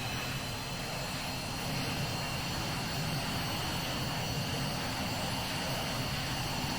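A-10D Warthog jet engines spinning up with the canopy open in the VTOL VR flight game, a steady broadband engine roar with a high whine that holds at the same loud level throughout, with no talk.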